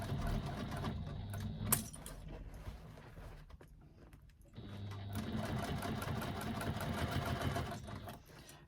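A sewing machine stitches in fast, steady runs, pausing briefly midway before starting again, fairly quiet and close.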